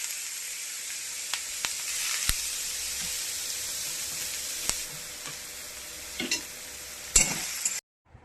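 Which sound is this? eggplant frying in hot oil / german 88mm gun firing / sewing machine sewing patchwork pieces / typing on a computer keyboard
eggplant frying in hot oil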